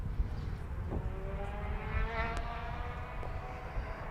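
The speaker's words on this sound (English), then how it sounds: "I hear some engines off in the distance" Race car engines at Sebring drone faintly in the distance, a low, steady mechanical hum with rising and falling tones under a quiet outdoor ambience.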